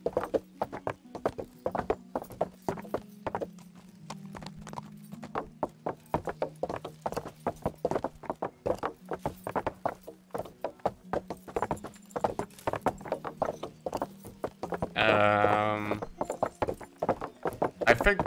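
Steady clip-clop of horse hooves trotting in the video game Kingdom Come: Deliverance over a long stretch, even and rhythmic, with a burst of brighter noise near the end.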